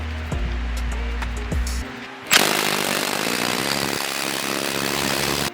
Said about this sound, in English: Put the spring in, bolt down this top hat,